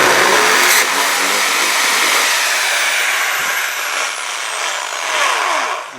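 A corded power drill spins a hole saw arbor into a Nissan Navara D22 body panel, a loud steady whine that holds for several seconds, dips slightly, then winds down near the end.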